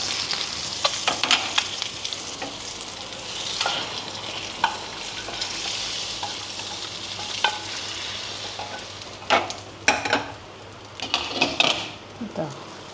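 Eggs fried in a pan of tomato curry base, sizzling steadily while a spatula stirs and clanks against the pan in irregular bursts, with a voice talking in places.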